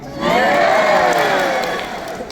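A loud concert crowd screams and cheers at a theater show, high excited voices swelling together for about two seconds before easing off slightly.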